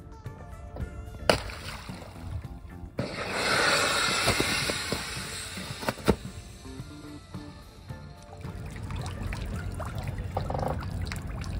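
Old life jackets, last inspected in 2013, are thrown from a sailing yacht into the sea. A sharp splash is followed by a burst of rushing, trickling water, then more scattered splashes and drips. The sound is fairly quiet.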